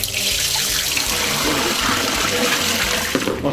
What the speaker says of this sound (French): on va prendre l'eau pour mettre dans la machine